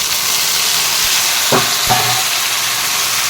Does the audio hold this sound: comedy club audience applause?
no